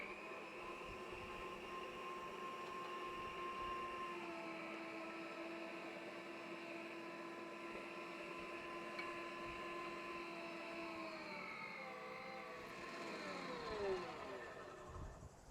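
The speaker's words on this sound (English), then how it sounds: "So let's get mincing here, so we get some nice freshly minced beef." A meat grinder minces cold beef with a steady, loud motor drone that holds evenly for about twelve seconds, then its pitch shifts and strains near the end as the load changes.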